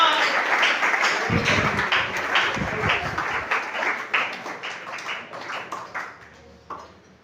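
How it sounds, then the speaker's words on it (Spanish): A Sunday school church congregation breaks into rhythmic clapping with sharp, regular claps that fade toward the end, while a voice speaks over part of it. "Alguien que aplauda la presencia de Dios"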